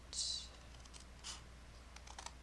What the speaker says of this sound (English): we're going to take scissors and we're going to cut right here